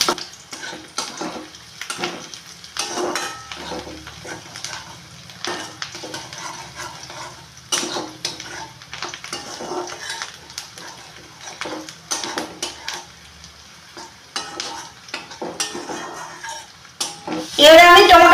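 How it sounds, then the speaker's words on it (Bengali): Chopped onions with green chilli and garlic frying in a pan until browned, a utensil scraping and stirring in steady repeated strokes, close and fairly loud, with a brief louder burst at the end. "পেঁয়াজগুলো লাল লাল করে ভেজে নেবো"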